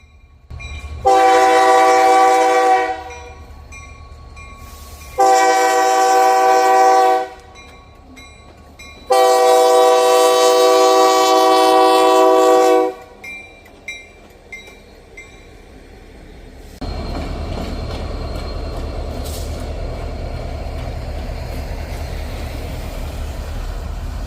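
Local freight train L550 heading from a yard onto a branch line in downstate Illinois blows three long, loud horn blasts, then its engines and cars rumble steadily past nearby.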